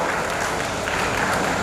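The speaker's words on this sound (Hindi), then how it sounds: "आप तालियों से इनका स्वागत करें" A crowd at a Bhagwat Katha gathering for a charitable trust hospital applauds to honour a guest, a dense, continuous burst of clapping that stays loud and even.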